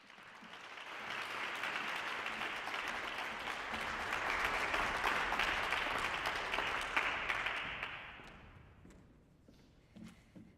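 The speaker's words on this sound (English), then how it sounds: "Give her a round of applause as she comes." An audience claps steadily to welcome the city mayor on stage at an MLK Dream Week keynote evening, with sustained applause building to a peak before it tapers off and a few last claps.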